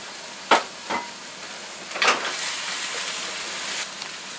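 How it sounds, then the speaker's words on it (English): Vegetables with softened cabbage and freshly added celery are stirred in a frying pan, giving a steady low sizzle broken by a few sharp scraping strokes of the spatula, close and moderately loud with no talking. "Add the celery and stir your vegetables."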